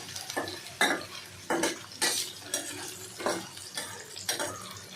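Ginger garlic paste being stirred in a pan with a utensil, with repeated scraping strokes and a faint sizzle underneath, close and fairly quiet.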